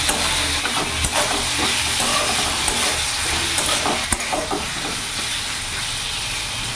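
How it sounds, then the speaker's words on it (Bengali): Fried potatoes stirred into a silver carp curry over a medium gas flame, a continuous close hiss and sizzle broken by scattered scrapes and clacks of a spoon against the pan. "ভালো করে নাড়াচাড়া করে নেব।"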